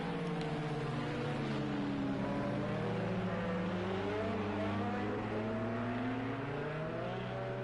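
Race cars on a formation lap at Le Mans in a racing game, several engines droning steadily with rising and falling revs, a smooth, continuous hum throughout with no talk.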